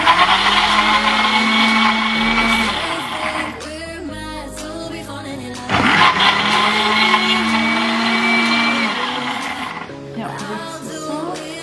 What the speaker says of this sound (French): Et je viens tout mixer cela.